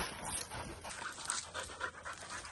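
A working dog pants rapidly and steadily at close range after a hunt, the breathy rhythm continuous throughout with no talk over it.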